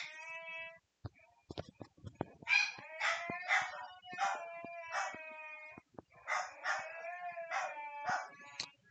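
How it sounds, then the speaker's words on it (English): A husky howls and mewls indoors, drawn-out wavering cries in several bursts separated by short pauses, with sharp clicks and taps between them, fairly close but moderately quiet. "That, my friends, is what a husky sounds like."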